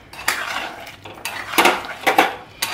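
Chicken pakoras dropped one by one into a pan of chili chicken sauce, a series of sharp metallic clinks and clatters from utensils against the pan, close and fairly loud, with no talking.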